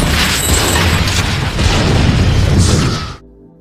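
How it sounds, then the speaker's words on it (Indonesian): A film-scene explosion tears apart a pawnshop, a loud sustained blast and crashing roar lasting about three seconds before cutting abruptly to near silence. "Eric pun segera meledakkan pegadaian tersebut."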